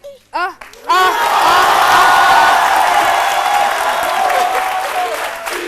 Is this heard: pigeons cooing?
no